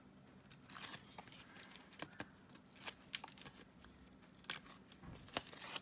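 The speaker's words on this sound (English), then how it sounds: "I just sort of really randomly put the tape on" Double-sided tape being torn and pressed onto a craft card gives scattered, faint crackling and tearing snaps at irregular intervals, close by and quiet.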